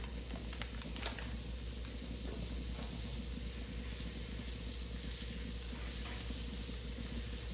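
Butter sizzles on a hot grill, a faint, steady crackling hiss with small pops, alone and fairly quiet.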